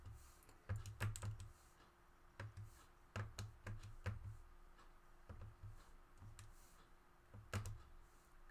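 Quiet keyboard typing on a computer, with irregular clusters of soft key clicks and short gaps between them, close but faint with low background hum.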